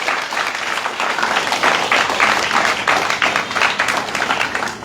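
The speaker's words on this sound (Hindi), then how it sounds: "इस पे तो बहुत सारी तालियां होनी चाहिए।" Sustained, dense applause from a crowd at a shelter home's Mango Day celebration, steady and loud for the whole stretch with no talk over it.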